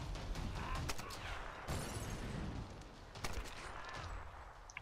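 Gunfire cracks out in Tomb Raider during a headshot, several sharp shots and bursts over a busy, dense game soundscape, moderately loud with no one talking.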